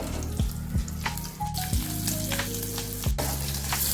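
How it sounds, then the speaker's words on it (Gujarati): Fenugreek-stuffed chillies sizzle and crackle in hot oil in a kadai, a steady frying hiss with a few sharp clatters as pieces drop in. "હવે આપણે મરચાં એડ કરી લઈશું. ભરેલા મેથીના મરચાં એડ કરશું."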